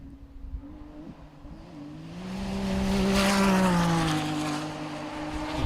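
Off-road race cars at the Pines Enduro, a forest endurance race, roar past with engine note rising to a loud, close peak then easing away, a steady revving drone throughout.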